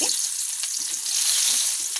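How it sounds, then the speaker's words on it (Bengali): Onion frying in hot oil in a pan, a steady bright sizzle and crackle running continuously at close range with faint stirring scrapes, no voices. "তেল গরম হয়ে গেলে দিয়ে দিব পেঁয়াজ"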